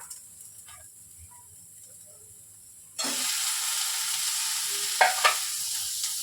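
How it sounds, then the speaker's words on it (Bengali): Quiet background gives way to a loud, steady sizzle of ridge gourd frying with browned onions in a pan, with a couple of brief stirring scrapes. "পেঁয়াজটা বাদামি রং করে ভাজা হয়ে গেছে, এখন এখানে দিয়ে দেব ঝিঙা"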